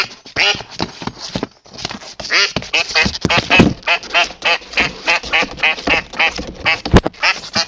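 A female duck held while her wing feathers are clipped quacks loudly and rapidly at close range, in a near-continuous run of harsh quacks with brief pauses.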